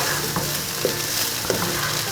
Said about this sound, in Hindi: ये उबले हुए चावल हैं जनाब। अब हम इसको मिक्स कर देते हैं इनको,